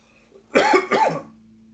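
Two quick, raspy coughs up close, one right after the other, over a low background hum.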